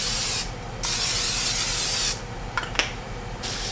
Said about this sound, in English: spray it with olive oil spray